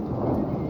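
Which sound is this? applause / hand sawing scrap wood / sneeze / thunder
thunder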